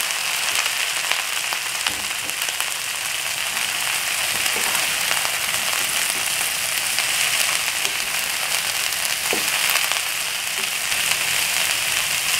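Broccoli hits garlic frying in hot oil in a pan, a steady, loud crackling sizzle that carries on evenly throughout with no talk.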